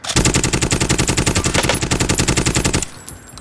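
Automatic gunfire in Call of Duty Modern Warfare, a loud, rapid, steady burst of shots lasting about three seconds before stopping abruptly.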